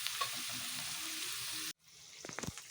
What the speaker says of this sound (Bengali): আমি সবজিগুলো একটু নাড়াচাড়া করে নিচ্ছি